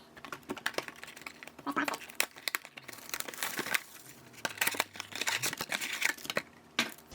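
Panini Illusions 2020 basketball card blaster box packs being torn open and handled, with crisp crinkling foil wrappers, rustling and sharp tearing close by, in irregular bursts.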